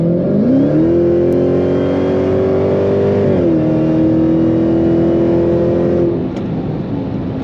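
A Dodge Charger Hellcat V8 with its exhaust valves open revs up and holds a deep, loud roar, then drops back slightly near the end, heard close and alone.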